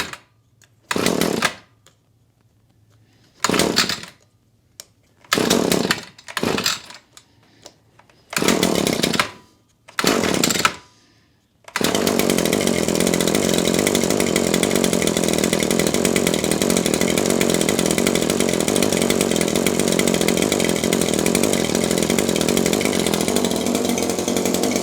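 Echo HCA 2620S two-stroke hedge trimmer, cold with choke on: several short bursts of pull-start attempts, then the small engine catches and runs steadily and loudly to the end.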